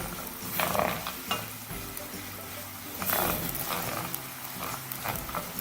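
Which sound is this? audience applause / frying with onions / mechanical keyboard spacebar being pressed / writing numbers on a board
frying with onions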